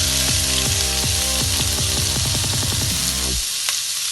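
Onions go into hot oil that already holds a fried powder of cinnamon, cardamom and clove, for a Tamil egg curry. A loud, steady sizzle runs under tonal background music, then drops off sharply near the end.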